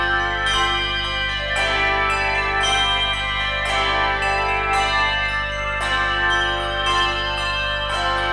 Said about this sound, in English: played on a 4-octave set of Schulmerich bells